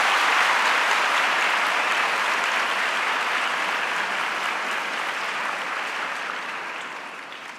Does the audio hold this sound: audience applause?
yes